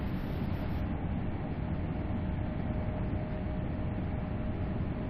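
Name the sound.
HST high speed train engine and exhaust sound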